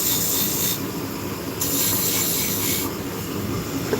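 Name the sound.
beading tool cutting a wood turning on a lathe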